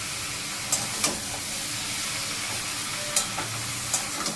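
Masala of garlic, ginger, tomato and onion fries with a constant soft sizzle, stirred without water, as a utensil scrapes and taps the pan several times at uneven intervals.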